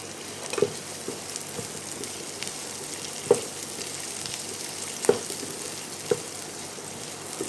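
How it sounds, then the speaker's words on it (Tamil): Chopped capsicum frying in a pan for chilli chicken, a soft continuous sizzle with a few distinct knocks of the spoon against the pan, close and moderately quiet, no speech. "இப்போ வந்து கட் பண்ணி வச்சுருக்க கேப்சிகம் போட்டுக்கோங்க."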